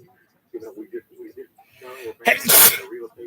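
One loud, close, explosive sneeze comes after a quiet stretch of people talking, with its sharp burst standing out clearly above the voices.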